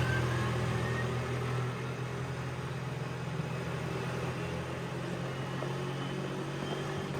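A Kubota RTV XG850 Sidekick utility vehicle drives on a road near 40 mph, its engine a steady humming drone with constant road and wind noise, no voices.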